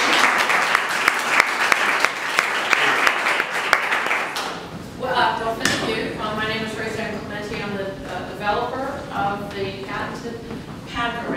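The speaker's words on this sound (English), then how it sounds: "please give a warm round of applause" A warm round of audience applause at a meetup event rattles loudly for about four seconds, then cuts off as a voice begins talking.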